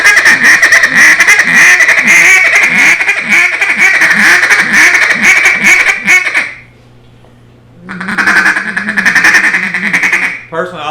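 Hunting feed call on a duck call with a deeper tone, a fast, loud run of chattering quack-like notes lasting several seconds, a short pause, then another burst, sounding up close with no talk over it.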